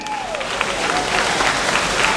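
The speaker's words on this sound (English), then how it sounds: "A round of applause for him." Applause from a crowd at a political signing ceremony launching a new alliance, steady broadband clapping filling the whole stretch at moderate loudness, with a faint voice and a brief tone underneath.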